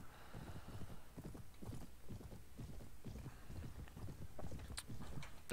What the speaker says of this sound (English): Oh no, it was just a horse.